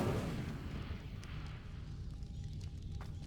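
A fire spell cast in the Hogwarts Legacy video game gives a dense, roaring burst that fades into a steady crackling whoosh, loud and close with no talk over it.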